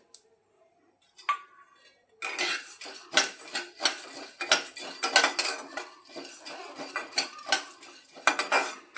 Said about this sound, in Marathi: आता मी कलिंगडाच्या आणि लाल भोपळ्याच्या बिया घेतलेल्या आहेत त्या पण भाजून घेते